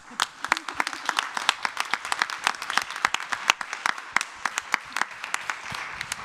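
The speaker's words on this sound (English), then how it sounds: "So if you could join us for an applause." Audience applause at a Glut1 deficiency syndrome community meeting in Paris: a room of people clapping steadily for several seconds, with individual claps clearly separated and no talking over it.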